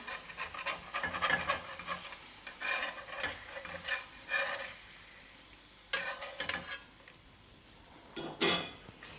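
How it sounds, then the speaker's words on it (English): Eggs are turned in a frying pan, with a spatula scraping and rasping against the pan in short bursts over a soft sizzle, close by with pauses between strokes. "I think I'm going to flip the eggs."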